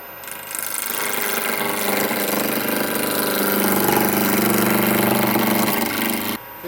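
Wood lathe turning slowly while a hobbyist shapes a table leg, a steady mechanical hum and whir holding at one level for several seconds, close and fairly loud, then cutting off abruptly near the end.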